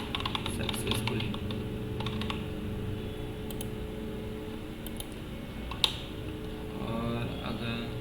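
Steady runs of computer keyboard typing while code is entered, close clicks in quick bursts with brief pauses and one sharper tap, over a low constant hum.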